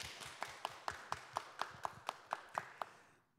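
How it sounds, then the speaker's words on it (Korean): A church congregation claps in unison, about a dozen crisp, evenly spaced claps in a steady rhythm that ends and leaves quiet room tone. "이거 박수요."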